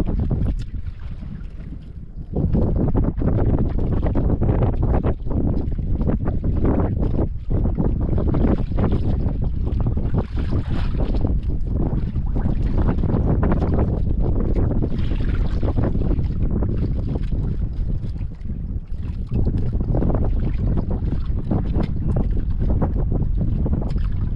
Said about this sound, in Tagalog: So yung hangin ah.